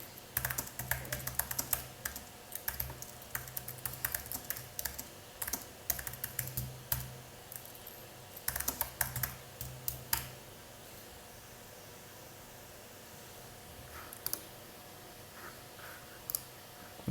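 Someone types a git add command on a computer keyboard in quick bursts of clicking keystrokes. The bursts come close together, then turn sparse with long quiet gaps and a few isolated taps near the end.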